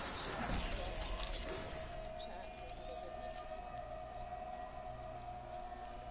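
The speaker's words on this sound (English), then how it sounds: "I hear a siren going off in the background." A steady siren tone drones faintly in the distance behind a patter of rain, with a louder clatter of noise at the start.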